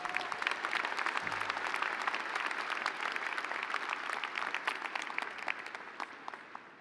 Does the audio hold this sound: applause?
yes